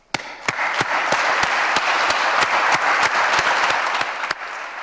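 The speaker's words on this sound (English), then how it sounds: "a round of applause for the graduating class of" Audience applause at a conservation warden graduation ceremony, honoring the graduating class; steady, dense clapping from a large crowd with a few sharp individual claps standing out, sustained for about five seconds.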